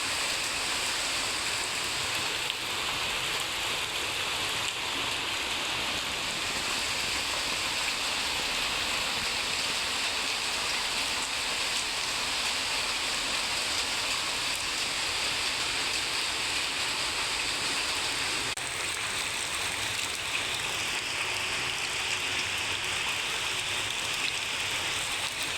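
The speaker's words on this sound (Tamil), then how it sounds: "எங்கள் ஊரில் மழை பெய்யுது." Steady rain falls in a village, a constant hiss of drops on surfaces that stays even and fairly close throughout, with no voices over it.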